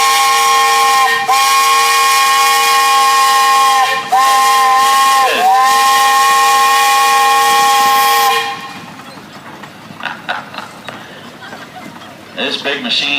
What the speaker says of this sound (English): Tim, give us a whistle. You got one on there?